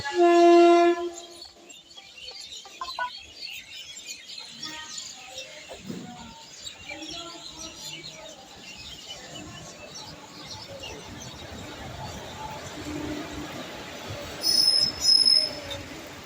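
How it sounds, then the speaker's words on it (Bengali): A Balurghat–Howrah down train pulling into Nabadwip Dham railway station, high wheel squeal ringing out at first, then rumbling wagons rolling past nearby with a few bird chirps and a sharp squeal near the end. "বালুরঘাট হাওড়া একটি ডাউন ট্রেন ঢুকছে দেখতেই পাচ্ছ"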